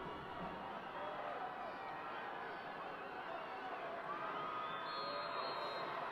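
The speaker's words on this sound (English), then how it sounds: "Listen to that crowd." A distant crowd roars and cheers at a high school football game, the Old Rochester Bulldogs against the Stoneham Spartans, as a continuous low wash of noise with scattered shouts.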